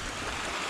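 Rushing water from a flooded waterfall during the rains, a dense, loud, steady roar with no breaks, heard up close.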